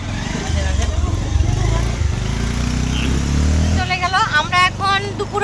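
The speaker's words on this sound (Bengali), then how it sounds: "ওই যে আসতেছে পিছনে বাইক নিয়ে" A motorcycle engine rumbles low and steady on a village outing for several seconds, then fades under nearby people talking.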